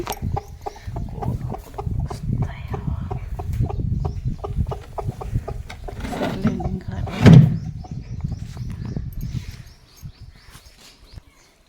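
Hens clucking in a rural poultry yard, repeated close clucks in an uneven rhythm with one louder squawk near the middle before fading toward the end.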